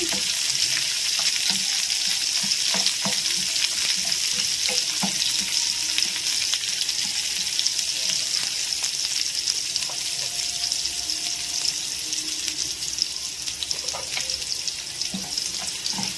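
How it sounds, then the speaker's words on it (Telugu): Red onion and dried red chilies frying in hot oil in a home kitchen pan, a continuous close sizzle with occasional stirring scrapes, steady and alone without talk. "ఎర్రగడ్డ ఎండుమిరపకాయ వేస్తున్నానండి. ఇవి కొంచెం వేపుకోవాలి."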